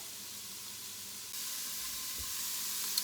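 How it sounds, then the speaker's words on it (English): Vegetables sauté in a pan for a chicken and wild rice soup, giving a steady, soft sizzling hiss that grows slightly louder partway through, with a faint clink near the end and no talking. "So you can hear that sizzling away there."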